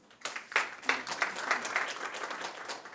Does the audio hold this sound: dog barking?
no